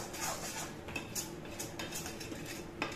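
A spoon scrapes and clinks against a kadhai while thick kalakand mixture is stirred, giving quiet, irregular metallic taps and scrapes repeating through a few seconds.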